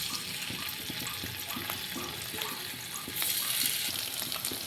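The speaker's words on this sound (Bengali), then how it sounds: "ওই তেলে আমি পনিরগুলোকে ভেজে নেব।" Salted, turmeric-coated paneer cubes fry in a pan of oil, giving a faint steady sizzle with light bubbling pops and a few soft utensil taps, the hiss growing slightly louder near the end; no voices.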